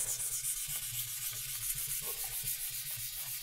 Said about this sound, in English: So our goal is to sand anywhere we think that we're gonna have clear coat.